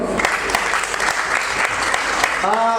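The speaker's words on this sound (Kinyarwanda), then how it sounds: "amashyi menshi kuri ba Last Born." Audience at a comedy show bursts into loud, sustained applause, a dense wash of clapping that holds steady throughout, with a voice briefly rising over it near the end.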